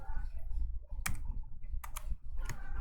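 A few sharp keystrokes clatter on a computer keyboard as a command is typed in a Windows disk tool, close and distinct in a quiet room, spaced in small bursts.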